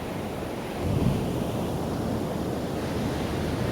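Ocean surf washes onto a beach beside a pier, a broad, steady roar of breaking waves with wind buffeting the microphone and a slight swell near the start.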